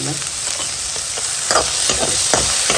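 Vegetables, beans and tomato fry in hot oil with a loud, continuous sizzle. Repeated stirring scrapes and clinks come in bursts against the pan, close and clear, with no talking.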